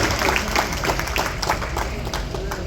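Audience applause at a Munnuru Kapu community association event in Jalavihar, Hyderabad, welcoming a guest onto the stage: steady, dense clapping from a crowd that holds at an even level for the whole stretch.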